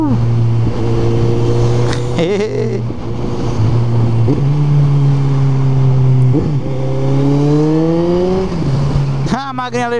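A small motorcycle with a deep, throaty exhaust note runs and revs close by, its steady drone rising and falling over about ten seconds, with voices talking over it.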